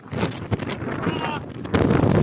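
Strong wind buffets the microphone in a continuous loud roar, with brief gusts and rustling throughout.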